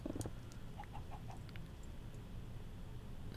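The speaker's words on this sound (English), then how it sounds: "Hey, chicken. Are you the one that keeps leaving eggs on the ground?" A Minecraft chicken gives a few short, soft clucks near the start, then steady low game ambience continues without them.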